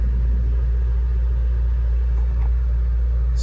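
A 2021 Subaru WRX base model idling right after a cold start, a steady deep engine rumble with an even, unbroken drone, loud and close, with no talking.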